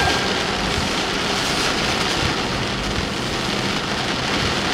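Heavy tropical-storm rain pounds steadily and loudly on a car in Hudson, Florida, in a dense, unbroken roar that lasts the whole stretch.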